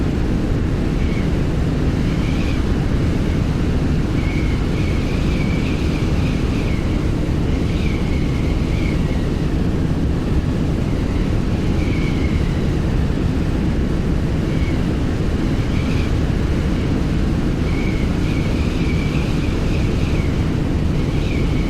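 A simulated airplane engine in Flight Simulator X drones continuously in flight, loud and steady with a rushing wind-like roll and faint periodic tonal swells.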